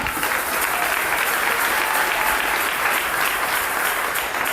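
An indoor audience claps loudly and continuously, a thick wash of applause that holds steady at full strength throughout.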